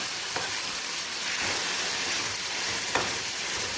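Chicken sizzling in a pan with ginger and turmeric for a home-style Sankranti curry, a steady broad frying hiss with a few soft stirring scrapes, close and continuous with no talk.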